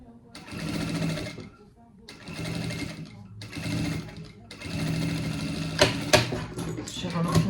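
A sewing machine stitches a bag seam in repeated bursts of rapid mechanical chatter, broken by short pauses, with a longer final run and a few sharp clicks near the end.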